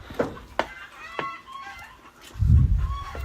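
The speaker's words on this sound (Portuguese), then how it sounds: "esse aqui é o alerta das aves" Chickens give sharp alarm clucks in short bursts outdoors, with a louder rustling thump toward the end.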